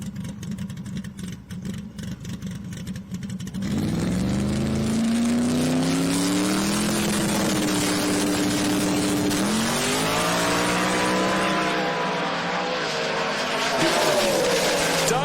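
A Chevy Nova drag car at a summer drag racing event roars down the strip, engine loud and rising in pitch through gear changes after a quieter opening, heard alone without talk.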